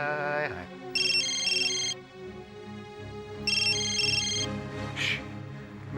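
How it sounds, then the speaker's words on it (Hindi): A telephone ringtone plays in two loud repeating electronic bursts over background music in a Hindi TV drama scene, with a voice briefly heard near the end. "मेहरा का फोन है।"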